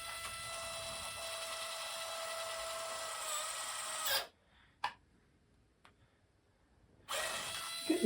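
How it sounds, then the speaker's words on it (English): A small power drill whirs steadily for several seconds boring small holes in a 1:84 model ship's parts, stops, gives a brief burst, then falls quiet before starting up again near the end. "drill going through the centre of the hole."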